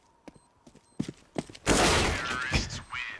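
Rapid AK rifle fire bursts loud and close in a Counter-Strike match on the Nuke map, preceded by scattered footsteps and clicks, the shooting dense and sustained through the second half.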